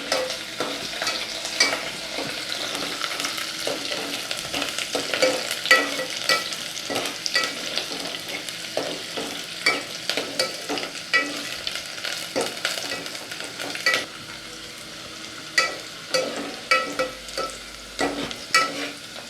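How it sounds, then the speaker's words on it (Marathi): Onion sautés in oil for a Malvani black pea sambar, a constant low sizzle broken by repeated scraping strokes and taps of a spatula against the pan, close and steady throughout. "आता आपण कांदा परतवून घेऊया।"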